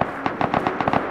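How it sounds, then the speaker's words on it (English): Gunfire in the survival video game Rust: a rapid, irregular burst of about eight sharp cracks, somewhat distant and evenly loud, with no talking. "I heard some gunshots."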